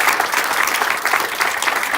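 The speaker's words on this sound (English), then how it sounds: "So please give Liz a round of applause." An audience at a port groundbreaking ceremony claps steadily in a dense, continuous patter of many hands, fairly loud and close throughout.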